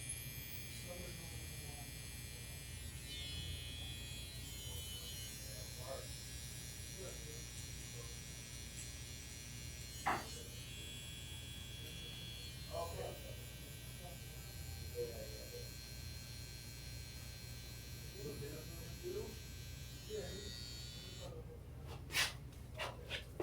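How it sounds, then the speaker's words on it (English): An electric hair trimmer set very close buzzes steadily through a low fade haircut, a constant close hum with faint breaths and small handling noises. "I got my hitter trimmer. This one's set super close"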